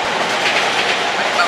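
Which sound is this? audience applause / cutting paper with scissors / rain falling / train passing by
train passing by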